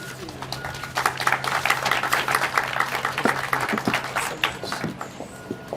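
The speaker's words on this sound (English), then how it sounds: "Can we get a big round of applause for the families in downtown?" An outdoor civic gathering downtown breaks into steady applause, with dense overlapping claps from a sizable audience and a few distant voices beneath.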